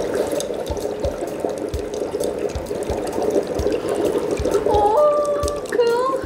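Dry ice dropped into water churns out carbon dioxide in a steady bubbling, gurgling wash, with brief rising bubble-pop tones near the end and people speaking over it.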